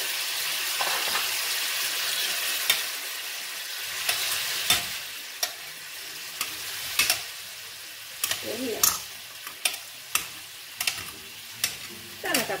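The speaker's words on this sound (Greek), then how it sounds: "Τα ανακατεύω πάλι για να πάει παντού η μουστάρδα." Pork souvlaki pieces sizzling in a frying pan with mustard, oregano and lemon, stirred with a utensil: steady loud frying hiss with irregular scraping clicks and knocks of the stirring, close up.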